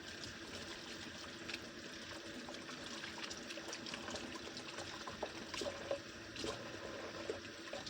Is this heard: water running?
yes